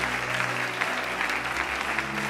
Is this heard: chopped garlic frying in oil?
no